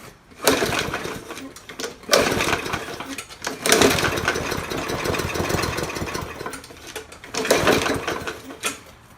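A walk-behind lawn mower engine with a worn carburetor, brake lever held off with pliers, sputters to life in several rough, uneven bursts, then runs raggedly with surging, knocking revs, close and loud.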